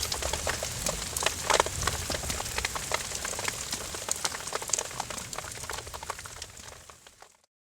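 Steady rain pattering densely on a surface, a constant crackling hiss of drops throughout, fading out at the very end.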